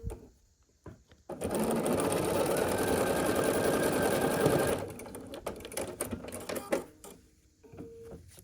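A sewing machine runs in one steady, loud burst of several seconds as quilt block pieces are stitched together, with quieter handling clicks and rustles of fabric before and after.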